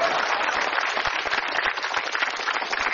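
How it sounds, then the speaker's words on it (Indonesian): A stand-up comedy show audience claps in a dense, steady burst of applause that fills the room evenly for the whole stretch, with no voice on top. "Tepuk tangan dong."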